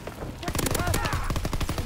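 Rapid machine-gun bursts and gunshots from the World War II shooter Call of Duty: WWII, a dense, loud stream of shots filling the whole moment, with a faint voice beneath.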